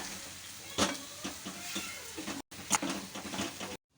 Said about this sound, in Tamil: அடுப்பை வந்து நல்லா மீடியம் ஃப்ளேம்லேயே வச்சுட்டு இதை வந்து நம்ம நல்லா வதக்கணும்